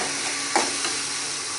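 Green chilies and curry leaves sautéing in a hot pan while making dried fish thokku, a steady close sizzle with a brief stirring scrape partway through.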